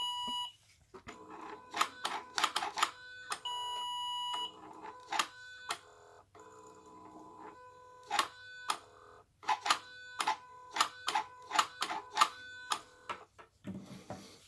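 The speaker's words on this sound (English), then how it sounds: "It's gonna beep." The PATS security system in a 2008 Ford Explorer gives off clear electronic beeps in irregular bursts, some rapid clusters and some single tones, separated by quiet gaps, with no one talking.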